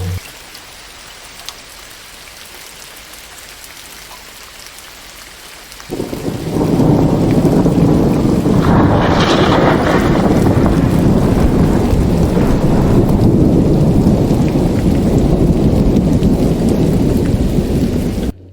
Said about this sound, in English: watching the storm roll across the silhouette of the central range